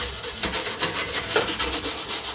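Scrubber rubbing hard over a dirty household surface, fast regular back-and-forth strokes, loud and close, with no voices.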